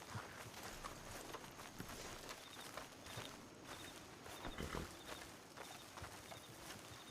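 A horse walks on foot beside its dismounted rider, hooves clip-clopping in a steady uneven rhythm at moderate distance, with faint outdoor background and no clear talk.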